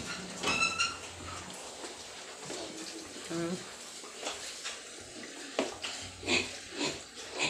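Pigs and piglets on a farm grunt and oink in short bursts, with splashing and clatter around them as people talk nearby.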